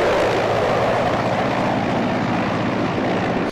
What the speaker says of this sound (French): Le point culminant a été l'atterrissage de l'hélicoptère transportant le chef de l'État en provenance d'Ati